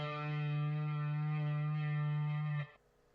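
A raw electric guitar part, run through an amp rather than plugged in straight, holds one gritty, harmonically rich sustained note loudly for a few seconds before cutting off abruptly, no voices.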